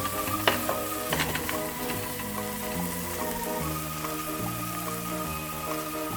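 Mustard gundruk and dried fish fry in a pan, giving a steady close crackling sizzle, punctuated by a few scraping stirs of a utensil, with soft music playing underneath.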